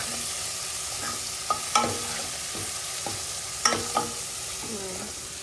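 Ginger garlic paste and cumin powder frying in a pan, a steady sizzle with several sharp clinks and scrapes of a spoon stirring, close by, no talking.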